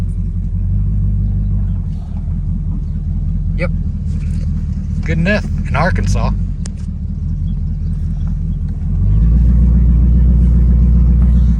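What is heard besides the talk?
1970 Pontiac LeMans engine rumbling while driving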